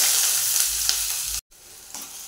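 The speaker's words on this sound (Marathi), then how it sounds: "कढईमध्ये 2 चमचे तेल टाकून घेतलंय, तेल पण चांगलं गरम झालंय। ह्याच्यामध्ये टाकून घ्यायचा कांदा।" Onion tipped into hot oil in a wok sizzles loudly and steadily, then cuts out abruptly and resumes as a softer, settling fry.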